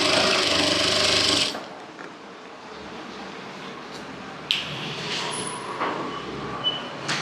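Sewing machine stitching crushed-material salwar pants: a loud rapid whirring burst of stitches at the start, then quiet handling of the fabric with a few light clicks and taps.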